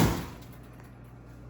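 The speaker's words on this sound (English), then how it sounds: "door opens and shuts just the way ideally a Mustang should." A door on a 1966 Shelby GT350 Mustang shuts with one close, solid thud, and a low hum lingers in the quiet garage afterward.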